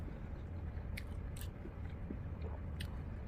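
A person bites into and chews a mouthful of spaghetti and meatballs, with a few brief crisp bites over a steady, close, low background hum.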